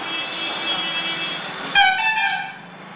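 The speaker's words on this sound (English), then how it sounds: "That's a very loud truck." A loud truck horn blares on a street outside a hotel in Gaya, India, a steady honk over traffic noise, then a second higher, harsher blast near the end.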